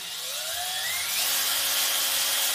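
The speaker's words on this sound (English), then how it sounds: "And then we'll come in there and drill them out." Power drill boring holes for trim studs in a Camaro roof skin, a continuous close whine that rises in pitch and holds steady, loud and alone.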